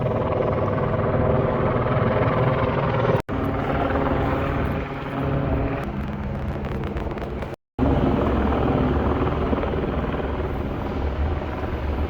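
A helicopter flies overhead near Burbank airport, its loud, steady rotor drone and engine roar continuing for several seconds with two brief dropouts.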